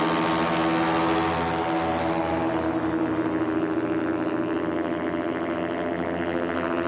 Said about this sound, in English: You can hear that engine prop combination